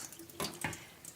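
Wild rice rinsed under a running kitchen tap: a brief, faint splash of flowing water with a couple of soft sloshes as the grains are stirred.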